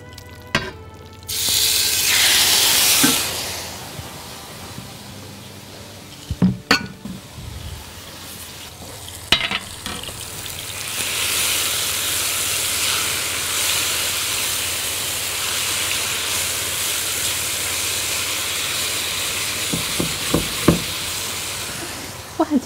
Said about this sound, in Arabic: هنسيب الفراخ تتحمر على النار.